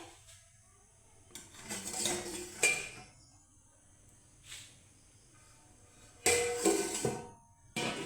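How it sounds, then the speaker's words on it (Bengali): A metal lid is lifted off a cooking pot of a rice dish, giving a few scattered clinks and scrapes of metal on metal in short bursts, with quiet stretches between. "এখন আমি ঢাকা চাপাটা উঠিয়ে দেখাচ্ছি তোমাদেরকে"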